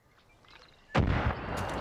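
A sniper rifle fires in the Far Cry 5 video game: a single loud, sudden blast following a quiet moment, with a sustained booming rumble and echo trailing after it.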